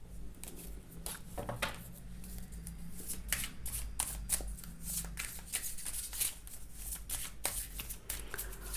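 Tarot cards are shuffled by hand in a steady run of crisp, riffling bursts and soft slaps, close and clear, with no voices.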